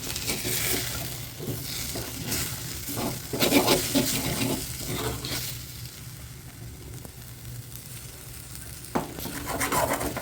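Egg frying in a pan for idli podimas, a continuous close sizzle with bursts of ladle scraping and stirring, growing quieter partway through before picking up again.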